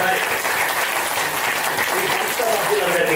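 An audience claps steadily throughout at a Telugu lecture on dharma, a dense, continuous patter of applause from a room full of listeners with no break.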